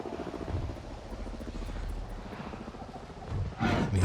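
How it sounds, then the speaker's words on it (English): Helicopter rotors thump rapidly in a continuous chopping drone in Avatar: Frontiers of Pandora, fairly loud, with a burst of louder noise near the end. "And here's some helicopters."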